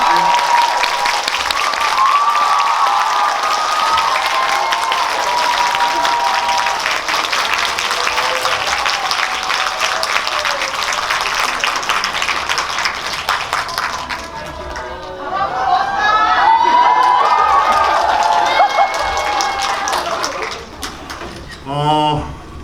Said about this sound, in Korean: 힘찬 박수 맞이해주십시오